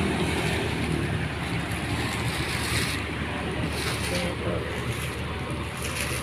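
A steel boat's engine runs steadily with a broad droning rumble and rushing water or wind noise, close and continuous, no talking.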